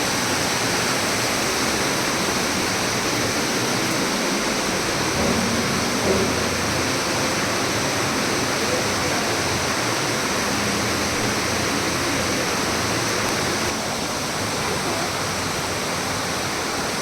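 Rushing stream water flows steadily and loudly, a dense continuous roar like a fast stream or small cascade, close by with no pauses.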